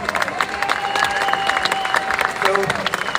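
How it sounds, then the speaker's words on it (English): An audience at a campaign demo event applauds a speaker being introduced, giving steady scattered clapping and crowd noise with some cheering, while voices talk over it throughout. "Please give this man a round of applause."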